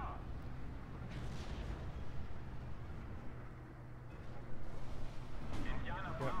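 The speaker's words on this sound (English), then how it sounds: "We got rocket support coming in from" In the WWII strategy game Steel Division: Normandy 44, a rocket artillery support strike fills the air with a dense, continuous rumbling barrage. The roar swells slightly toward the end.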